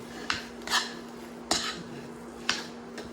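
A cooking pan handled with a spoon gives four sharp metallic clinks spaced about a second apart, close and quiet over a faint background hum.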